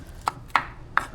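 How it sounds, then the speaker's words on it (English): Garlic cloves being chopped fine for a Trinidad curry: three sharp, separate knife strikes against a board, spaced unevenly across a short, quiet moment with no talking. "I'm gonna add a few cloves of garlic,"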